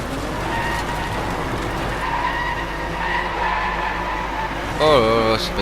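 Racing cars in the video game Driveclub roar and skid as rivals press in from both sides, engines droning with sustained tire squeals and a sharp screech near the end, while someone talks over the action.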